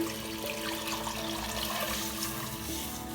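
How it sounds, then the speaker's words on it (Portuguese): Milk and water are poured into a pan for coxinha dough, a soft steady liquid pouring and filling sound, faint and continuous throughout. "agora eu vou adicionar aqui a parte líquida. Vamos colocar o leite e a água"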